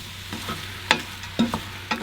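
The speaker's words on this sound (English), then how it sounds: "So you just stir the spinach around and it'll start wilting pretty quickly." A spoon stirs spinach and potatoes in a frying pan, giving a series of irregular scraping knocks and clatters over a low background sizzle, close and fairly clear.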